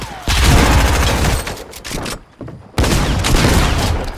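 Dense video-game gunfire in a battle royale squad fight, sustained loud bursts of shots and booms with a brief lull mid-way before another heavy volley.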